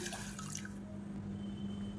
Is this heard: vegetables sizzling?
no